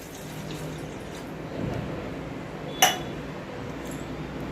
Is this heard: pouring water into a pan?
yes